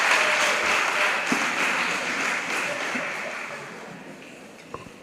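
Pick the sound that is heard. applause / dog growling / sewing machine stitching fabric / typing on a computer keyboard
applause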